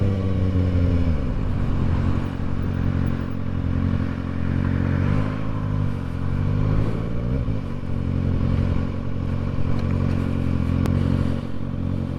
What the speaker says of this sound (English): This bike is way too loud.